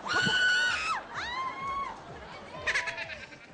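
Several people scream and shriek loudly on a Filipino TV game show, a long cry first, then a second rising scream and a burst of crowd yelling near the end.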